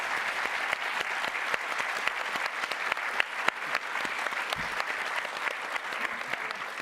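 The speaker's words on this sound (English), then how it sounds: "can we just have a massive round of applause, please, for the panellists?" Sustained applause from a live audience for the panellists at a country cooking and CWA cookbook event, dense steady clapping with a few sharper claps standing out.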